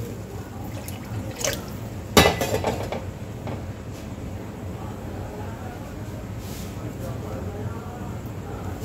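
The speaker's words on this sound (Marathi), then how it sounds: "आणि पाणी थोडं जास्तच टाकायचं आहे।" A generous amount of water goes into a cooking pot on a high flame while making shengole, heard as brief splashy bursts and a metallic clank against a low, steady kitchen hum.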